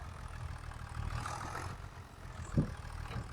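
A tractor stuck in place in the video game Farming Simulator 25 runs with a low, steady engine drone at moderate volume, broken by one brief dull thump near the end.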